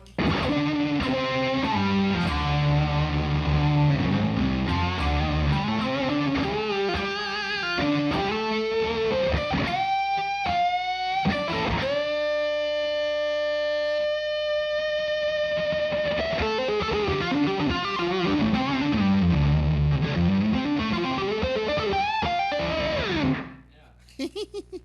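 Electric guitar played through a distortion effects pedal at an amp demo, a continuous loud run of saturated notes and sustained chords with shifting pitches, ending in a few short stabs.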